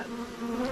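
Honey bees buzz steadily and close during a beehive inspection, a dense droning hum with no talk over it.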